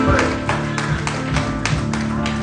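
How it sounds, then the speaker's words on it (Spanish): Church congregation clapping in praise to God, several sharp, roughly rhythmic claps in a steady sequence over a sustained background tone. "Dale un aplauso a Dios"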